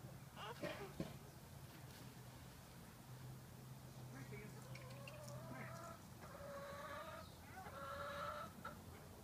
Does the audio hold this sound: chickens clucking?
yes